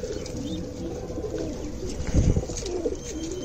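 Pigeons in a loft coo softly at close range, with a low throaty burst standing out midway over a steady background murmur and no talking.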